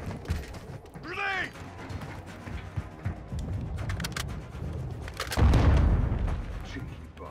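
A grenade going off in Modern Warfare 2 gameplay, a loud low boom late in the moment after scattered gunfire, with game voices and other effects around it.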